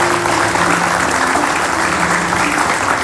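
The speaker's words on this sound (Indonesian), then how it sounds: "Oke, tepuk tangan dulu." Studio audience applause on the Indonesian TV talk show Hitam Putih: a loud, dense, steady round of clapping that fills the whole stretch with no break.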